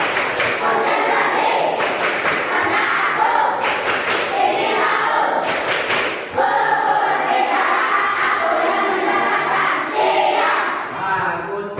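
A classroom of children does a rhythmic concentration clap during an Islamic jurisprudence lesson, with bursts of claps and thumps and loud crowd noise and children's voices running throughout.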